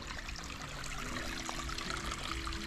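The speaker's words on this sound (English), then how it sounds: "is the trail, but it looks like it's just a creek." Creek water running over a snowy forest trail, a close, continuous trickle and gurgle that stays at an even level throughout.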